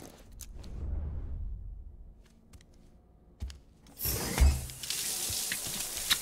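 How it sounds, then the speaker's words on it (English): Shower running in the video game Death Stranding: a muffled low wash that fades, a few faint drips and clinks, then a bright, loud hiss of spraying water that holds to the end. "Take a shower, okay."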